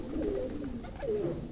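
Pigeon cooing close by, two soft, throaty rolling coos in a short sequence over a steady low background murmur, with no talking.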